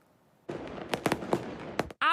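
New Year fireworks burst in a rapid scatter of sharp bangs and crackles, several louder explosions standing out over a continuous crackling background before the clip ends abruptly.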